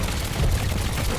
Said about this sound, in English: the cannon will automatically turn. So you can fire out the left or right side.